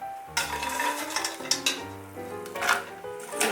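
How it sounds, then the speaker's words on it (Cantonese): Twisted dough sticks (mahua) going back into hot oil for a second deep-fry: metal utensils clink and scrape against the pot over a soft, steady sizzle, close and moderately loud, with no talking. "咁麻花我哋再炸多一次，咁佢嘅顏色會更加靚啲同埋脆口啲啦。"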